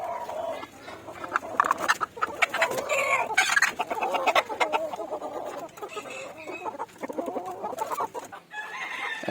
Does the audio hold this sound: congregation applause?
no